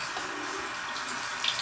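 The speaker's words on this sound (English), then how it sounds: "we're gonna fill the bowl up" Lukewarm water runs steadily into a bowl, a continuous even splashing hiss with no voices.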